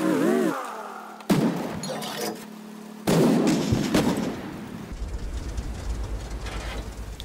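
The Grille 15 tank destroyer fires its gun twice in World of Tanks, each shot a loud, heavy boom with a rumbling tail, separated by a short gap and followed by low engine and ambient noise.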